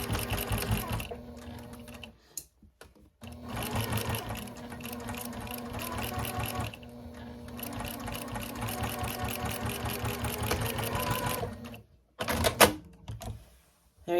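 A sewing machine stitches a quarter inch seam on a Christmas mug rug, running in steady rapid bursts with two short stops, close and loud with no talking.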